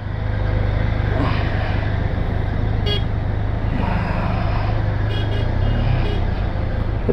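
Traffic jam on a blocked Himalayan mountain road under construction near a valley on the way to Rishikesh, with a steady loud engine rumble and several short car horn toots breaking through.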